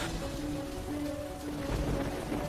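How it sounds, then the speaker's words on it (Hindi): Heavy rain pours steadily through a cartoon storm, a dense hiss of downpour with no break, continuous and fairly loud, with a faint low rumble beneath it. "ये बारिश तो रुकने का नाम ही नहीं ले रहा है।"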